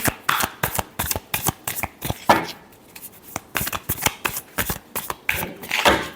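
A deck of tarot cards is shuffled by hand, a rapid run of crisp riffling slaps and flutters in quick bursts with brief pauses, close and fairly loud, no voices.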